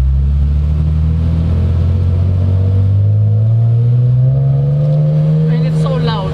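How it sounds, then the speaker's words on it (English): A 1998 BMW M Roadster E36/7 with its straight-six engine, a loud, close, throaty drone that climbs steadily in pitch as the car accelerates. "I finally got to experience the ever popular BMW straight 6 engine."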